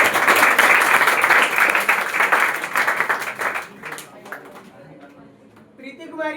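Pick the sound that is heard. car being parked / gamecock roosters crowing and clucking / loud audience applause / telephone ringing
loud audience applause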